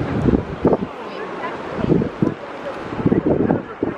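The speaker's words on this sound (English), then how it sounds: "You can hear the wind." Breezy wind buffeting a microphone on an Atlantic beach at Isle of Palms, a steady rushing bed with louder gusts and possible surf beneath, a few low thumps scattered through.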